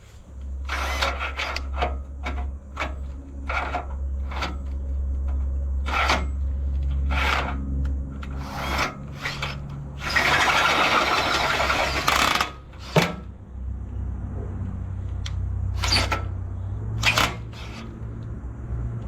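Drilling into running-gear metal with a drill bit: repeated short bursts of a power drill starting and stopping, with one longer sustained run near the middle, close and loud.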